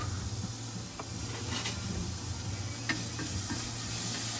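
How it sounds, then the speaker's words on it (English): Smoked bacon sizzles and renders in a pan, a steady close hiss with a few faint stirring scrapes and no talk. "Get that bacon rendered down nicely"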